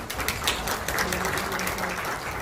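Applause at the launch ceremony of the Korean Uiyeoldan centenary commemoration committee: a short burst of many hands clapping at close range in a ceremony hall.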